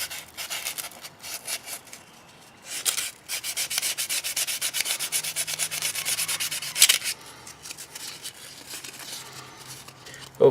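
Sandpaper rubs epoxy off a Condor Nessmuk knife in close, raspy strokes, quieter at first, then a sustained stretch of steady scraping before easing off again.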